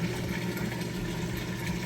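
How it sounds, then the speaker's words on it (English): A Kenmore HE washer's drain pump runs in a steady, low, continuous hum with a constant motor drone and faint vibration, with no talk over it. "You hear it running there."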